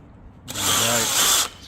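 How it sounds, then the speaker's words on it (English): A power drill drives a screw into a tunnelhouse arch saddle, one close, loud whirring run of about a second that starts abruptly and cuts off sharply. "Screw goes in"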